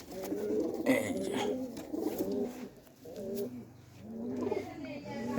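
Pigeons coo repeatedly nearby in soft, rolling, low-pitched phrases, several overlapping calls at an even pace, with faint clatter in the background.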